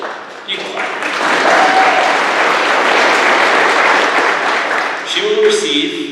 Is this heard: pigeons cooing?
no